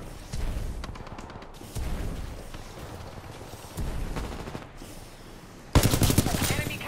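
SMG fire in Titanfall 2 multiplayer, several short bursts of rapid shots spaced a second or two apart, with one louder, denser burst near the end.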